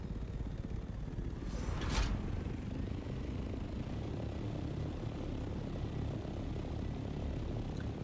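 An ornithopter in the video game Dune: Awakening gives off a loud, continuous engine drone with a propeller-like whir, steady throughout and broken only by one brief swish early on.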